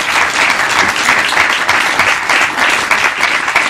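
Audience at the Turin Film Festival (TFF 31) applauding a guest, a dense, loud, continuous wash of clapping filling the hall throughout with no talk.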